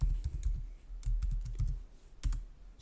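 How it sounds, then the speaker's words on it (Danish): Numbers are typed on a computer keyboard in quick bursts of close, crisp key clicks separated by short pauses. "Så fik jeg tastet alle tallene ind."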